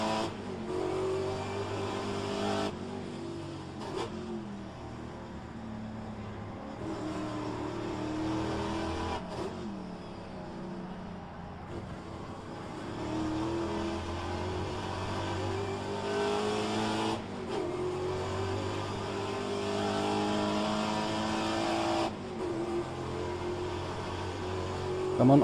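A Pontiac race car circles Road Atlanta with its engine revving hard through upshifts, a steady loud roar that rises and drops in pitch across the run.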